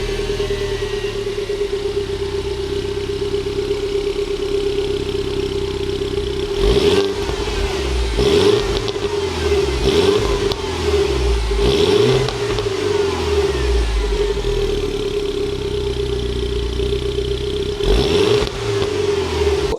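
A stock-exhaust Mini Cooper S idles with a steady hum, then revs sharply several times in quick bursts, each rise falling back to idle, with one last blip near the end; loud and close, no talking.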